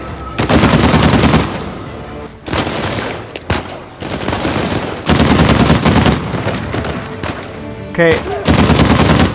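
Rapid bursts of automatic gunfire in the video game Uncharted 4, loud and close, coming in several sustained volleys separated by short pauses, with a brief spoken word in between.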